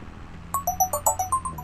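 A phone ringtone from the farming game Farming Simulator 25 on the Matopiba map: a short run of bright electronic chime notes in quick rhythmic succession, clear and close, with no talking.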